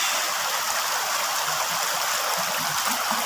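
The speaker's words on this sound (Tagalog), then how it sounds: "Maraming tubig." Water rushing across Kennon Road, a continuous loud broadband rush like a stream or small waterfall, steady and close, with no talk.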